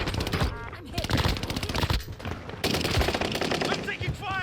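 Rapid machine-gun bursts and single gunshots in a first-person shooter video game, loud and dense, fill the moment with continuous volleys and short gaps between them.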